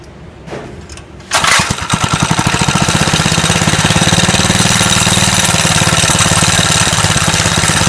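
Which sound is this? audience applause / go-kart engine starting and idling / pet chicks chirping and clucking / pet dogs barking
go-kart engine starting and idling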